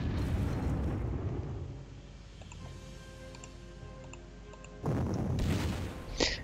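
Bombing explosions in a WWII strategy PC game, with a loud rumbling boom at the start that fades into quieter tonal game sounds, then another burst of booming blast near the end.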